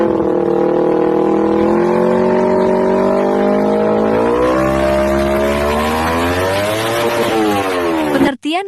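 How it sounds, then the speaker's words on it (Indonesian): Two-cylinder engine idling and revving steadily at close range, its low throbbing tone rising and falling for about eight seconds before cutting off abruptly at the end. "Berikut suara mesin dua silinder."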